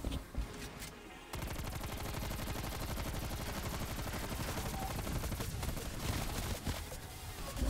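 Rapid automatic gunfire from a video game, loud and dense with sustained bursts, a brief pause near the start, then nearly continuous shooting.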